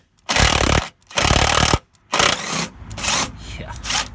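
A power tool, likely an impact gun, buzzes loudly and close in several sustained bursts while removing tight bolts in the engine bay of a Nissan Micra K11 during coolant expansion tank replacement, with brief pauses between runs.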